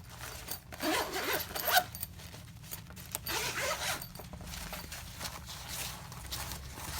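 A zipper is pulled open on the small carry bag of a Launch CReader 7001 code reader, giving a few quick rasping pulls close up, followed by soft handling and rustling.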